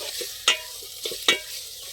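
Tomatoes frying in hot oil, spattering and sizzling close up with a steady crackle, punctuated by several sharp stirring scrapes in the pan.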